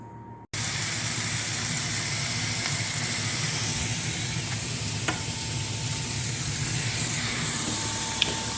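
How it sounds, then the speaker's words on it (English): Pork belly sizzles loudly in a hot frying pan just above medium heat after a brief quiet moment, a steady crackling hiss with occasional pops. "I'm just going to throw them in the frying pan on just above medium."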